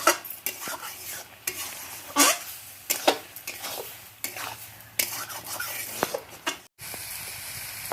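Garam masala spices and chhatu mushroom curry frying in a pan while being stirred, with repeated scraping and clattering strokes over a soft sizzle, close by and without speech.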